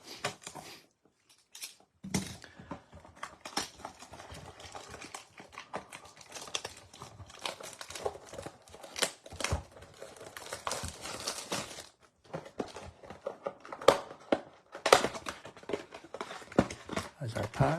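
Tough plastic wrap torn off a box of 1973-design baseball cards makes irregular crinkling and ripping bursts with short pauses, close by, with a voice talking over parts of it.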